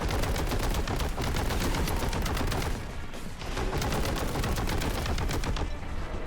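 Grav cannon firing in Warhammer 40,000: Boltgun, a loud rapid stream of heavy shots in fast succession, with a brief dip midway before the barrage resumes just as intensely.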